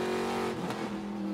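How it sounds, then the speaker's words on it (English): A Trans Am race car at Sonoma roars steadily past at full throttle, a loud continuous engine note with a brief pitch shift as it passes close by. "I think this is the best sounding car in the field"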